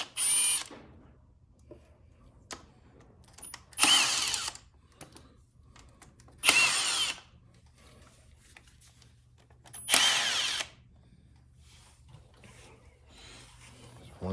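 A power tool drives out the 8mm stator cover bolts on a Honda XR650R in three loud, separate whirring bursts of about a second each, with quiet gaps between them.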